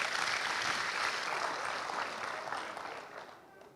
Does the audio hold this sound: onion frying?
no